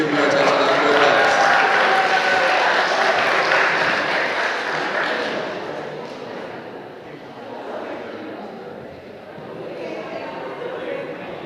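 An audience applauds at a high school student council election speech, with dense clapping filling the hall for about five seconds before it thins and fades into lighter room noise.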